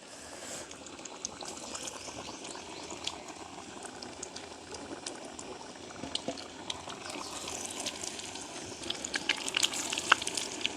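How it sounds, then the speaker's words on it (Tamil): Green plantain slices frying in oil at an outdoor village cooking spot make a continuous bubbling crackle that grows busier and louder toward the end, with scattered sharp pops. "நாங்கள் வாழைக்காய் பொறிச்சிட்டோம்"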